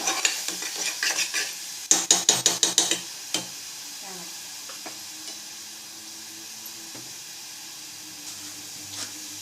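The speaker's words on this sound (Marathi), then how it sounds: "छोले मसाला चांगला तेल फक्त हलवून घ्यायचा. भाजायचा, चांगला मसाला भाजला पाहिजे." Chhole masala roasting in oil in a pan while being stirred, a quick series of sharp metal scrapes and taps early on, then a quieter steady sizzle.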